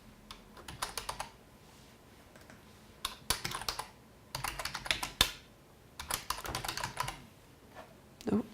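Quick bursts of typing on a computer keyboard, clusters of crisp key clicks separated by short pauses, close and fairly quiet.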